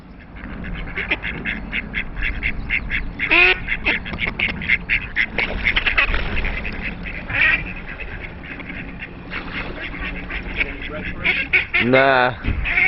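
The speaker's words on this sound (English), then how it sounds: "Only the ducks disturb the tranquility." Ducks quack repeatedly at pay and display moorings on the Caledonian Canal, with several loud nearby bursts spread through the clip over a steady background and some voices.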